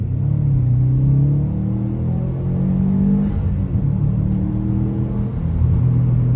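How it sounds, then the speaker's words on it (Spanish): A Subaru WRX STI engine revs under hard acceleration on a road test, a loud, deep rumbling drone rising in pitch through successive gear pulls, heard from inside the car. "Vamos a hacer acelerón"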